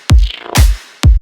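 Three loud, booming future bounce bass hits with swooping, warped tails, separated by a distorted, wobbling synth texture that sounds eerie and otherworldly.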